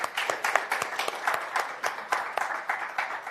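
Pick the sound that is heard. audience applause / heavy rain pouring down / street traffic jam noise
audience applause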